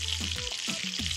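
A cassava dough dumpling filled with minced beef frying in very hot oil, giving a brief steady hiss close by.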